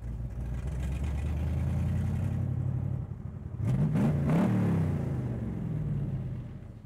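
A car, likely a Factory Five replica of a 1965 Shelby Cobra, rolls into a car dealership lot with a steady low engine rumble that swells into a revving, accelerating growl midway before easing off.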